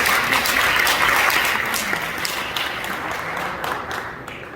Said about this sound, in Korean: 힘차게 박수해 주십니다